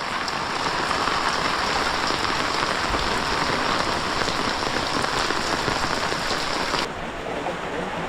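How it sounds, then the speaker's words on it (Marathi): Heavy monsoon rain pours steadily in a dense, hissing wash at Sangameshwar in Konkan, drops drumming on surfaces nearby; the roar dips slightly near the end but never stops. "पाऊस मला वाटतं सगळीकडेच पडतोय"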